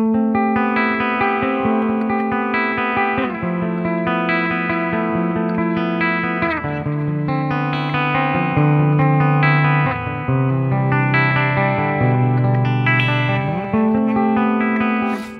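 A distorted electric guitar plays a continuous melodic riff with sustained, harmonically rich notes and steady loudness, no voices present.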